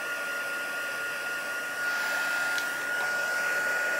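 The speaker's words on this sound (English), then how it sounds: "Heat gun." A heat gun blows hot air over embossing powder on vellum, giving a steady, close whirring hiss that swells slightly partway through and runs continuously with no talk.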